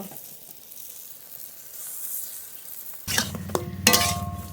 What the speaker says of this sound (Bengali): সব বড়া দেওয়া হয়ে গেছে এবার খুব ভালো করে ভেজে নেব